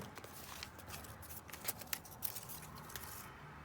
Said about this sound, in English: So we'll just trim this whole bunch like that